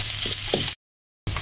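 Garlic, onion and ginger frying in hot oil in a wok, a steady crackling sizzle up close that stops briefly, then resumes, with no talking.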